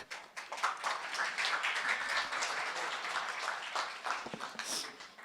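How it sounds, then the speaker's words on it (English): Audience at a reentry conference plenary applauding, a steady wash of many hands clapping that holds for several seconds at moderate level, with a few sharper claps near the end. "Another warm welcome or round of applause for Derek."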